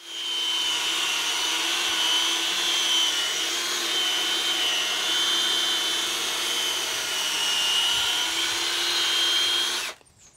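A power drill spinning a cone-shaped polishing bit against a car exhaust tip: a loud, steady high-pitched whine with slight wavering pitch that runs continuously for about ten seconds, then cuts off abruptly.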